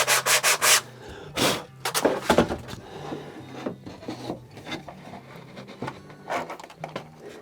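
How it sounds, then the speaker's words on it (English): Sandpaper is rubbed by hand over wood on a handmade breaker cabinet, a series of close, scratchy strokes, quick and loud at first, then lighter and more irregular. "sandpaper"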